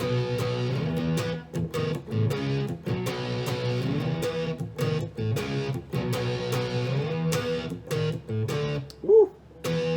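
Distorted electric guitar plays a riff, rhythmic chugging power chords with short stops and slides, close and loud, ending on a brief slide with no talking.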